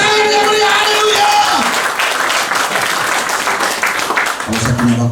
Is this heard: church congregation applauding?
yes